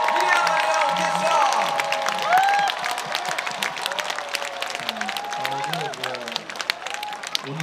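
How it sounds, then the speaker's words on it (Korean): An outdoor audience at an autumn river festival applauding the Miryang Arirang Orchestra, steady crowd clapping and cheering mixed with a voice and lingering musical tones. "여러분 다시 한번 큰 박수 부탁드립니다"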